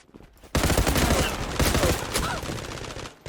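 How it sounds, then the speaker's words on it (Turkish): Gunfire in the online shooter Zula: after a brief quiet start, a dense burst of loud shots erupts and keeps going, with sharp repeated blasts fading slightly toward the end. "Arkamdan biri pompalı atıyor."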